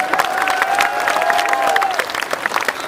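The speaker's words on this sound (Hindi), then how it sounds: "इसका हम जश्न मनाएं तालियों के साथ।" Large crowd at a rally at Jantar Mantar claps and cheers loudly, a dense, continuous wash of hands with shouts and whistles rising above it throughout.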